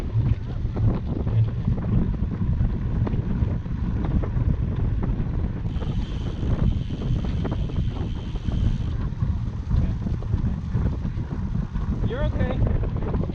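Wind gusts steadily across the microphone on an outdoor trail, a constant rough rumble lasting the whole stretch. A person talks briefly over the blustery noise.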